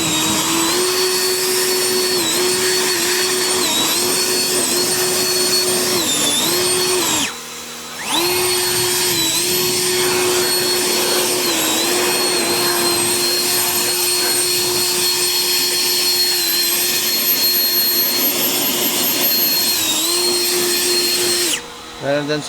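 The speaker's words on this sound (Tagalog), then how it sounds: "So, dala natin itong ating blower." An electric blower drying a newly installed roof and its switches, a loud steady whine running continuously with two short pauses where the motor cuts out and restarts.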